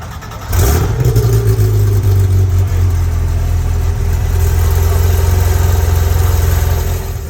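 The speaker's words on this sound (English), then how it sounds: "I'm gonna show you guys an exhaust clip now." Modified car exhaust at a Florida car meet, starting up and then idling loud and close with a deep, steady, slightly lumpy rumble throughout.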